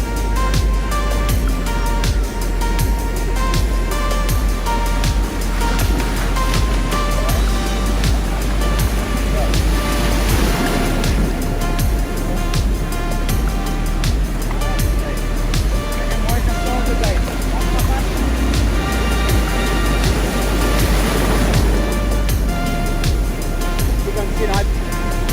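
Ocean surf washes steadily over a landed fish on the shore, a loud continuous roar of waves with swells building and breaking, someone talking over it throughout.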